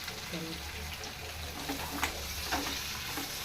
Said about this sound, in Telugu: పచ్చిమిర్చి, అలాగే అల్లం, ఇవన్నీ కూడా వేయించుకున్నామండి. ఫ్రై అవుతుంది కదా, ఇప్పుడు కొద్దిగా కరివేపాకు వేసుకున్నాను